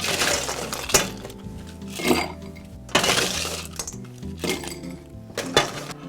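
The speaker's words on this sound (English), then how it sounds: "We're gonna add some ice to our mixing glass." Ice cubes tumble into a cocktail mixing glass while a martini is made, giving sharp, close clinks and clatters in several bursts about a second apart, with rattling glassy chinks between them.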